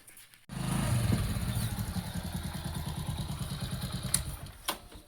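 A motorcycle engine starts up and idles with a steady, rapid putter, close by, with a few clinks and rattles near the end.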